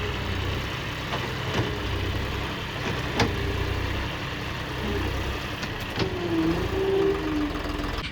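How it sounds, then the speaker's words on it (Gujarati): A tractor engine runs on a Gujarati farm, a steady low rumbling idle with a knocking chug, fairly close, alone and without talk. "ત્રીજું ટ્રેક્ટર હવે આવી રહ્યું છે"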